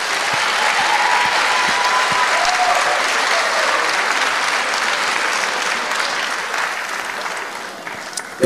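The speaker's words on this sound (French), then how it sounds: "ça s'applaudit, elle est là." A large audience applauds at the 2013 2-Handi Awards ceremony, dense and sustained clapping that stays loud throughout and fades slightly near the end.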